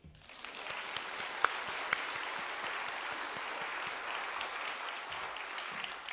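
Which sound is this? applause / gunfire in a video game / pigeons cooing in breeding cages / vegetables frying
applause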